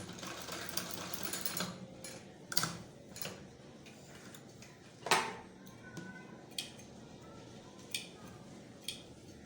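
A sewing machine stitches a baby collar on a ladies' frock in quiet, brief runs, mixed with scattered sharp clicks and taps of handling; close but soft throughout.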